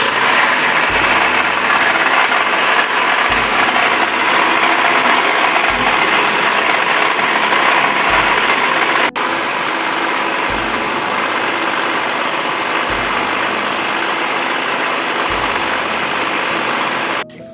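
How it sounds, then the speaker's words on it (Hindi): An electric mixer grinder runs steadily, grinding sugar and black pepper in a dry jar for a fruit chaat recipe, a loud continuous motor whine with regular pulsing surges, alone without talk. "अब हम इसको ग्राइंड करेंगे उतनी देर तक जितनी देर तक इसमें चीनी शामिल ना हो जाए"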